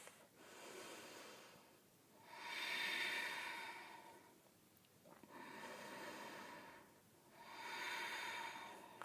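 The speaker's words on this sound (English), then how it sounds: "3 more full rounds of breath." Slow, deep yoga breaths, close and quiet, rising and falling in three long, airy inhale-exhale cycles with soft hissing breath sounds.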